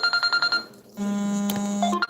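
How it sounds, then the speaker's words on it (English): A phone ringtone plays a quick run of bright repeated electronic beeps, then a sustained melodic tone, loud and close with no talking. "let me shut off my phone again, I keep forgetting."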